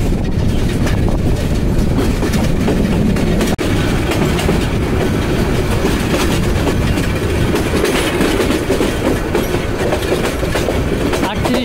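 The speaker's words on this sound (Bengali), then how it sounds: "মিনিট বিলম্বে জামালপুর এক্সপ্রেস প্রবেশ করলো ময়মনসিংহ জংশনে।" The Jamalpur Express rolls into Mymensingh Junction with a loud, close, continuous rumble of wheels and carriages and steady clickety-clack over the rails.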